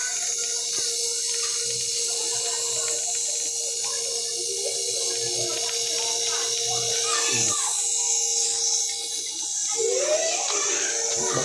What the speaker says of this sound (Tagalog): Vacuum na tayo, vacuum.